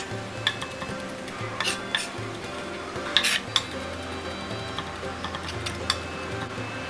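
Garlic cloves being finely minced with a knife on a cutting board, a steady run of close, light tapping chops with a few sharper knocks, no talking.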